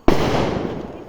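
Firecracker going off with a single sharp, loud nearby bang that is followed by a rushing, fading tail in an outdoor setting.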